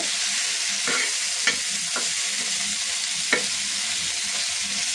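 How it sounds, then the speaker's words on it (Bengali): Boiled green leafy vegetables frying in oil with shrimp and chili, a constant close sizzle broken by a few sharp spatula scrapes against the pan, no voices. "সবুজ শাক, ভাজিটা হয়ে আসছে"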